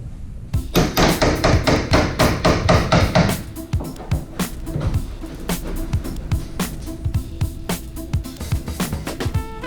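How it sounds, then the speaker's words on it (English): A hammer drives a chisel to knock seam sealer off a BMW E92 roof, with rapid loud metallic strikes at first, then slower spaced taps close by. "Now we're gonna try to chisel this thing off."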